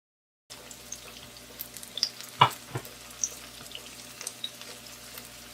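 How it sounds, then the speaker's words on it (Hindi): Seekh kebabs frying in butter in a pan, a soft steady sizzle running throughout with small pops and scraping clicks, one louder clatter near the middle, no voices. "अब इसे फ्राई करते हैं और आप लोगों को दिखाते हैं। चलिए थोड़ा से बटर डालेंगे।"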